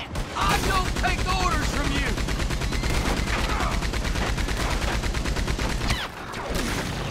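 Sustained rapid gunfire in the Red Dead Redemption 2 video game, dense fusillade-like bursts running nearly the whole time, loud and close, with voices talking over the shooting.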